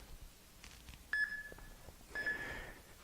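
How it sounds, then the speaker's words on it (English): Two short, clear electronic beeps from a workout timer at the start of a fitness class, sounding close over faint background noise. "I'm going to start the timer."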